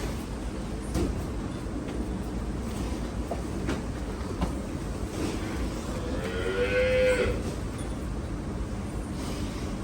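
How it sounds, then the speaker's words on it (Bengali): A well-kept three-year-old cow lets out a single drawn-out moo around the middle of the recording, moderately close, set against steady farmyard background noise. "অনেক আদরের একটা গরু।"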